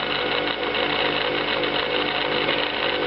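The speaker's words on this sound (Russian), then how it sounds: "Раз, двигатель начал вращаться." A small electric motor, run using self-induction with a diode in the circuit, whirs at a steady high speed, a continuous buzzing drone with no pauses and no voices.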